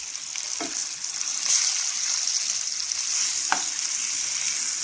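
Barre meen fish fries in a pan over a medium flame, giving a steady close hiss of sizzling oil with a couple of faint taps, no voices.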